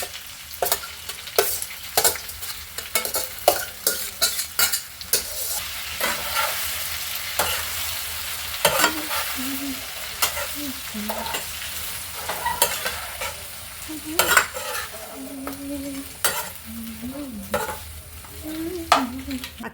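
Lemon pickle mixture is stirred in a pan, with soft scraping strokes in an irregular rhythm over a quiet sizzle from the hot pan, close and fairly faint throughout.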